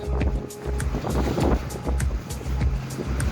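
A boat coming into dock at Dalyan, Turkey, with a close, rhythmically pulsing engine rumble under gusty wind noise and water wash, with no voices.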